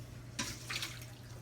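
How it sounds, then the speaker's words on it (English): Water from a can of mackerel runs out in two short pours while a cook drains it in a kitchen, with a steady low hum underneath the whole time. "I'm going to drain these out. Got water in it."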